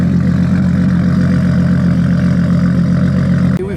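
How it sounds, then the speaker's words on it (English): A loud, deep modified Nissan R32 engine idles steadily and close by at a car show, its low rumble holding constant before a brief dip near the end. "Over here appears to be a rather loud R32 with quite a few modifications"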